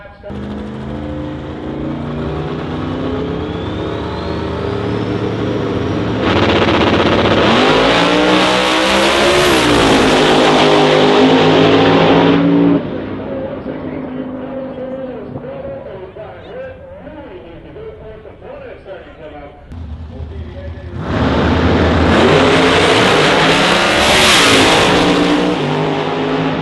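Drag cars at an X-275 shootout roar down the strip in two loud, sustained full-throttle runs separated by a quieter idle stretch, with an announcer talking over the engines throughout.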